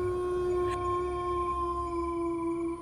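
Jackals howl far off on a silent winter night beside a village path, a faint, long, steady wavering cry drawn out over a low background rumble.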